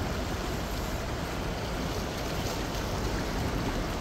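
A strong current of water rushes under a bridge at low tide near Flatts Village, a loud, constant broadband roar like surf or a fast stream, unbroken and close, with no talking.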